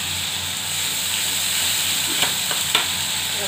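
Food sautéing in a pan with oil, Bengali-style, cooked down thoroughly: a steady, even sizzle and hiss throughout, with a couple of faint clinks near the end and no talking.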